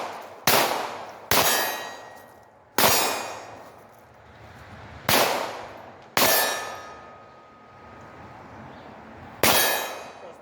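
Ruger Mark IV pistol with a Holosun 507 ACSS Vulcan sight fired while moving, six sharp, loud shots spaced unevenly over several seconds, each followed by a ringing decay and faint metallic pings.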